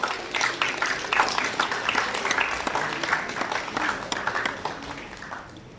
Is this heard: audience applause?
yes